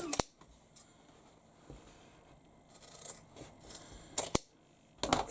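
Scissors cut across a fabric seam allowance on a tote bag, with a few sharp, quiet snips spaced apart and soft rustling and handling noises in between.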